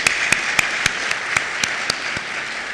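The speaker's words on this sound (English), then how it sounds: "Can we give ourselves a round of applause?" An audience at a lecture applauds with a steady wash of clapping, punctuated by several sharp, louder individual claps at a regular rhythm.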